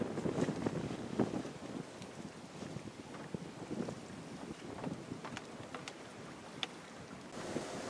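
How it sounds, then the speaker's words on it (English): A sailboat under way off the California coast, sailing from Drake's Bay toward Half Moon Bay, heard as steady wind buffeting the microphone over rushing water and hull noise, with occasional knocks and creaks throughout. "as we are sailing from Drake's Bay to Half Moon Bay"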